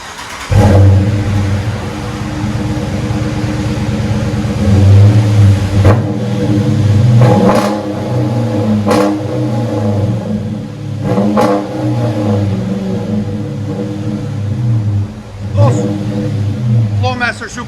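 A Dodge Charger R/T with a 5.7L HEMI V8 and Flowmaster Flow FX mufflers idles with a deep burble, then revs in several sharp blips that rise and fall, loud and close throughout.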